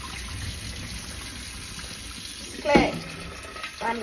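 Water poured over rice in a bowl to rinse it, a short splashing burst near the middle and a smaller one at the end over a quiet room background.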